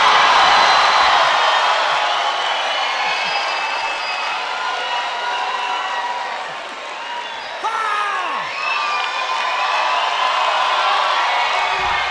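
A live concert crowd at a festival show applauds and cheers for the singer, a long broad roar of clapping with whoops and shouts that dips briefly midway, then swells again.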